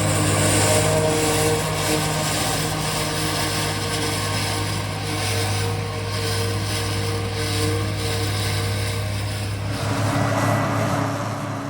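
A Schlüter 1250 tractor works a field with a linkage-mounted SH20 maize chopper fitted with a 2-row maize header. Its engine drones steadily and loudly the whole time, with no voices.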